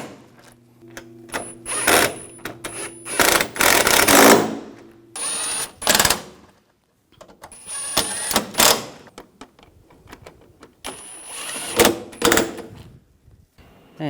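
Bolts tightened down on a 2004-2009 Audi A4 radiator cooling fan control module: intermittent loud mechanical bursts with clicks and clatter, separated by short pauses, and no voices.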